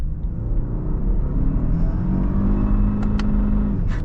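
A 2022 Lexus LX600 F Sport SUV engine holds a steady high-revving drone, bouncing against its rev limiter in a continuous buzzing rumble, close and loud throughout.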